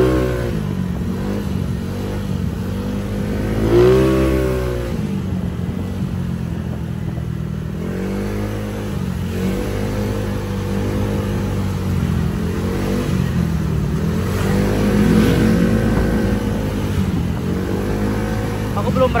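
A motorcycle engine fitted with an Uma Racing PWK carburetor revs repeatedly in loud, close bursts that rise and fall over an idling drone, with people talking nearby.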